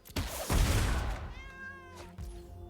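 A cat gives a loud, drawn-out meow close by, falling in pitch, followed by a shorter second call, heard alone in a quiet room.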